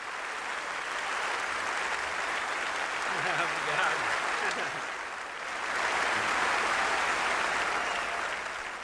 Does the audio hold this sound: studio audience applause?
yes